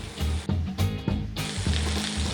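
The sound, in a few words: chicken frying in a pan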